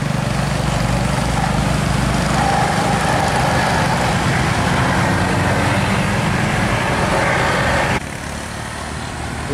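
An Isuzu Giga truck with a 245 PS engine runs loud and close, a dense, continuous engine roar that drops in level near the end.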